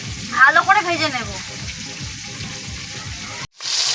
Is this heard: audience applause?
no